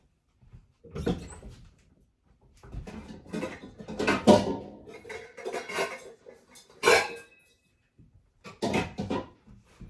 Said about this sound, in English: we're going to strain out the consomme from the onions and the garlic pieces and the peppers